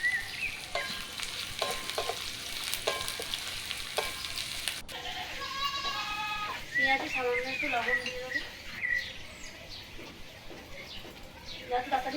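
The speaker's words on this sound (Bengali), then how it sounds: "ভালো করে নেড়ে ছেড়ে পেঁয়াজটা ভেজে নিই" Onions fry in hot oil with dried red chillies, cumin and bay leaves and are stirred for a Bengali chicken curry. A steady sizzle runs throughout, with scraping strokes and chirpy bird-like calls in the background.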